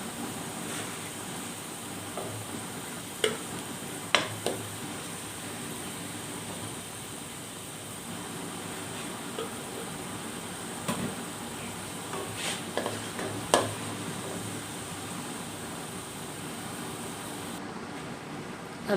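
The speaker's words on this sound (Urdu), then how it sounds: "جب پیاز اچھی طرح سے فرائی ہو جائیں گے" Onions fry in oil with a soft, continuous sizzle, broken now and then by brief stirring clatters and scrapes, fairly faint and with no voices.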